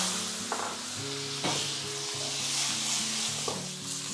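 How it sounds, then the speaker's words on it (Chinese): Fish bones frying with ginger in a non-stick pan give a loud, continuous sizzle and crackle, broken by a few scraping strokes of the spatula, heard close and alone. "这鱼骨头跟那个姜一起放进去煎"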